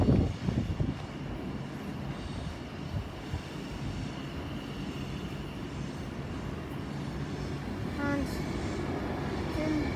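Trains at London Euston railway station, a continuous rumbling of rolling stock and engine drone in a large station space, with a brief tonal horn or announcement chime near the end and a short word spoken at the start.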